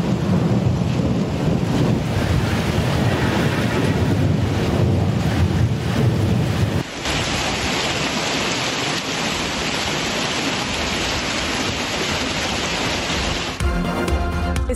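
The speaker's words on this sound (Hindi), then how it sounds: "इस्लामाबाद में शदीद तूफान और मूसलाधार बारिश, यालाबारी, दिन में रात हो गई। तेज हवाओं से दरख्त टूट गए।" A severe storm in Islamabad roars steadily and loudly, heavy rain pounding with strong gusting wind throughout, a brief shift in texture midway but no letup, no voices.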